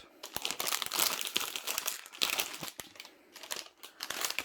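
Crisp crinkling and crunching of the plastic wrapping on a Razer Huntsman gaming keyboard as it is handled and unwrapped, a steady run of close, rustling crackles with sharp snaps, no voices.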